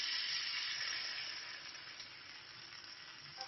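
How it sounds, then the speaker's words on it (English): A sea bass fillet frying skin side down in a little oil, a steady bright sizzle that fades slightly over a few seconds, close and alone. "Here is the fish cooking in just a tiny bit of oil."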